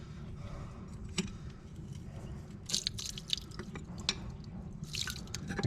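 Fluid drips out of damaged farm machinery: irregular, quiet drips and wet splats land over a low background rumble, a few landing in quick clusters.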